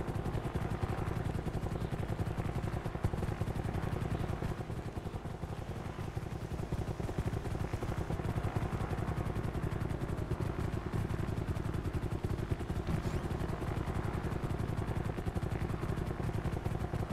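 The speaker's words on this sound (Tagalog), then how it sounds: "May helicopter oh." A helicopter flies overhead with a steady, continuous rotor and engine drone, moderately loud and unbroken throughout, with no talking.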